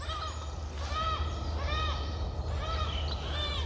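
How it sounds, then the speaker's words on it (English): Gulls flying low over a woodland, several harsh, repeated calls ringing out at moderate distance over a steady low background hum. "low flying gulls, sorry."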